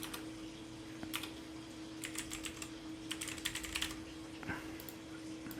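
Steady clicking of computer keyboard keys in quick irregular runs, soft and close over a faint constant hum, with no talking.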